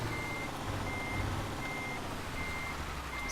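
A reversing truck in Euro Truck Simulator 2, hooking up a trailer, gives out a regular series of about five evenly spaced beeps over a low engine rumble. The level is fairly quiet and nobody speaks.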